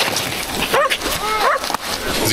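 Several short dog barks and yips ring out amid game noise and background chatter in a chemical plant ghost town mission, moderately loud and close.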